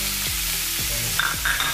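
Garlic and onion fry in a hot pan with a continuous loud sizzle, broken by a few scraping stirs of a utensil.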